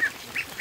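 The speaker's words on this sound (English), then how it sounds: "The goose brought the ducks down," Young ducklings, about a month old, brought down by a goose, give three quick, high peeping calls, close and distinct, in under a second.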